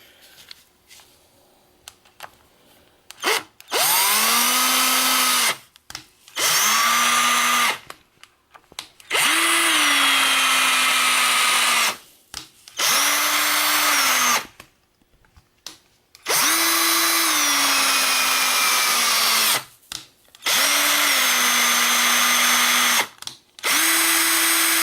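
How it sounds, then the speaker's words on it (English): A power drill with its clutch set low drives small taps into metal during a machine-building project, whining loudly in about seven separate bursts of several seconds each, with quiet gaps between them. "This particular drill has a clutch on it"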